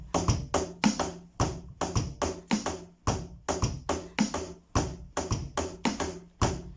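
Drum kit playing a 4/3 polyrhythm spread across bass drum, snare and hi-hat: crisp, evenly spaced hits in a repeating loop, close and clear with no talking.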